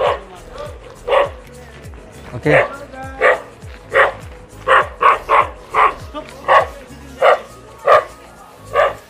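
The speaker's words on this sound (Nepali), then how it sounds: "कुकुरले लास्ट डिस्टर्ब गरिरहेछ" A dog barks repeatedly in short, sharp, fairly close bursts at an irregular rhythm on a hiking trail near a small market. A person speaks briefly between the barks.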